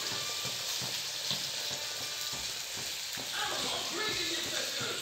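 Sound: boiled potatoes added and stirred in frying pan

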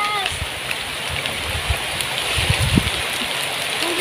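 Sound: rain

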